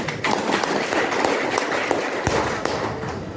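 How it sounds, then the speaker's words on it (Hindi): An audience at a meeting applauds, a dense, continuous roar of many hands clapping at close range for a few seconds. "जोरदार ताली होनी चाहिए।"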